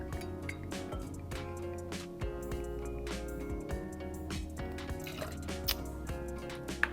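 Absolut Raspberry Vodka is poured into a cocktail shaker, giving a soft trickle and faint splashing with light clinks, quiet and close over a low background.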